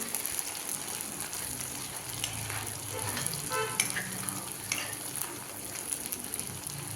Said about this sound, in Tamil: வடை மாதிரியே தட்டி போட்டிங்கன்னா போதுங்க